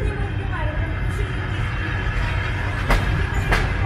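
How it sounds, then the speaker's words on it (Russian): A passenger train departs a station bound for Saint Petersburg, its steady rumble of rolling wagons carrying on throughout, with a couple of sharp clanks near the end. People talk nearby over the noise. "Пошел поезд на Петербург, в северную столицу России."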